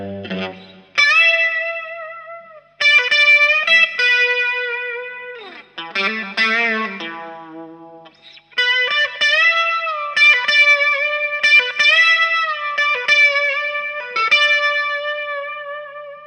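An electric guitar plays a melodic passage, mostly clean with light effects, in sustained single notes and phrases separated by short gaps, close and loud with no talk.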